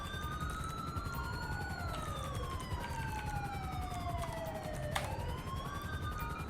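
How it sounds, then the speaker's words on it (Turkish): An ambulance siren in the game GTA 5 wails through a rising and falling sweep, loud and continuous, with a sharp burst midway over a steady background rumble. "Ambulans da geldi galiba."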